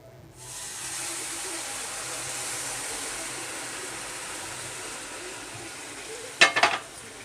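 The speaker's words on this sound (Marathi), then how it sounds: "आता त्यामध्ये आपण हे जे दूध उकळून ठेवलेलं ते घालून घेऊ" Boiled milk is poured into semolina that was slowly roasted over a low flame for sheera. A loud, steady sizzling hiss runs throughout, followed by a few brief clattering knocks near the end.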